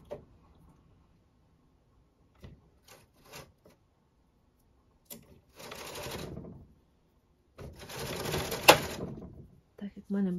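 The carriage of a home knitting machine sweeps across the first row of a 1x1 ribbed beanie, knitting cashmere and merino yarn. It makes two loud, rasping whirring passes after scattered quiet clicks and taps.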